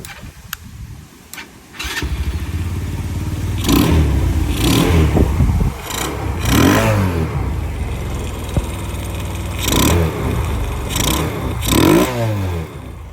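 The engine of a Honda Grom clone motorcycle cranks with a few clicks, catches and settles into a close, loud idle, then revs up repeatedly in bursts that rise and fall.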